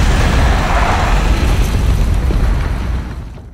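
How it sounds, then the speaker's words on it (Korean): A loud, rumbling explosion from shells falling from above and bursting on the ground roars with deep booming energy and debris noise, then gradually fades out over a few seconds. "위에서 막 날아오는 소리들이고요. 밑에 떨어져서 폭발합니다"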